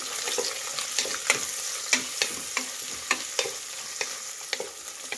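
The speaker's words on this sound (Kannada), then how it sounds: "2 ಈರುಳ್ಳಿನ ಉದ್ದು ಕಟ್ ಮಾಡಿರೋವಂಥದ್ದು ಹಾಕ್ತಾ ಇದ್ದೀನಿ. ಈರುಳ್ಳಿನ ಫ್ರೈ ಮಾಡಿ" Sliced onions sizzle and fry in hot oil with cloves and fennel seeds, with steady crackling broken by repeated sharp clicks of a spoon stirring against the pan; no voices.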